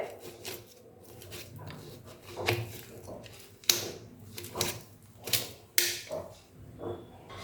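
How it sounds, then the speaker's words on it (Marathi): A fork mashes roasted eggplant on a hard surface, giving a close run of irregular tapping clicks and scrapes that rise and fall in strength. "हे पहा मी फोकच्या साह्याने हे व्यवस्थित स्मॅश करून घेतलं"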